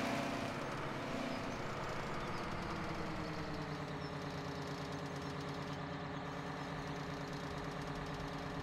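Big Bud 747 tractor engine in Farming Simulator 17, a steady loud low diesel drone with rich harmonics that rises in revs across the stretch, continuous and close with no talk.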